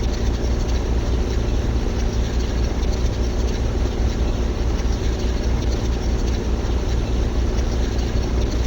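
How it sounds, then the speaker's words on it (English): A tractor in Farming Simulator 15 strains while pulling a hay tedder, its engine drone loud, steady and unbroken throughout with no talking. "seeing this tractor struggle with this tedder"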